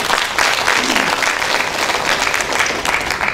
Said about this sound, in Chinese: 我们给亚玲一个掌声好不好？